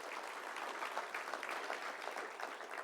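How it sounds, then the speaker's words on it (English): Steady applause from a convention audience thanking the caterers at a sports venue, an even wash of many hands clapping, fairly distant and soft. "please, a round of applause"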